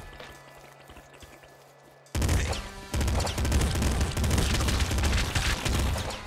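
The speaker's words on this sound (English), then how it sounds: "Damn it, they keep shooting me." Enemy gunfire in the top-down shooter Nuclear Throne: after a quiet stretch, a dense, loud barrage of rapid shots and booming impacts erupts and keeps going without a break.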